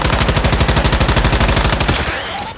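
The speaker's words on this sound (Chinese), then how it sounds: "还有人开枪呢" Automatic gunfire in the survival shooter Once Human: a fast, evenly spaced burst of loud shots that rattles for about two seconds, then cuts off into a brief fading tail.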